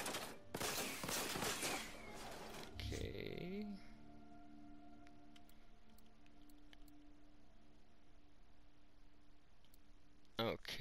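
Heavy automatic gunfire from Borderlands 3 bursts loudly for about three seconds while sprinting, then drops away to quiet ambient game hum with a few faint clicks and one short burst near the end.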